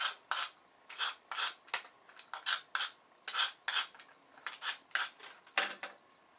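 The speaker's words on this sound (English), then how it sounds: "you can take a sharp knife or an X-Acto knife and just burnish it across" Sharp X-Acto knife scraping along the edge of a small marble tile magnet in quick repeated strokes, a dry close-up rasping with a steady back-and-forth rhythm and no talking.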